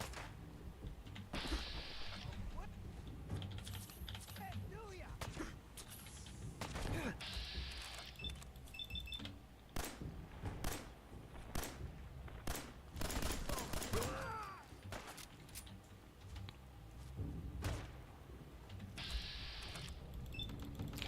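Scattered gunshots and short volleys pop from a firefight in the game Fallout 4 at a settlement, mixed with clicking game mechanisms, fairly quiet and under intermittent speech.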